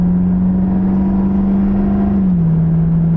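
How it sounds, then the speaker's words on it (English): A 2013 Chevy Caprice police car drives steadily to cool freshly serviced front brakes, giving a constant close engine and road hum with a smooth tone that eases down slightly near the end. "now we just drive till they cool off"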